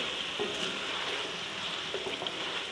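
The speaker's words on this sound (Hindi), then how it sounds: "और देखिए बस, चिकन अच्छी तरह भुन चुकी है।" Chicken frying on medium heat for nihari, a steady soft sizzle with faint stirring scrapes, no voices.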